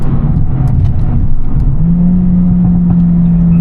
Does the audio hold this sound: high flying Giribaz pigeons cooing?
no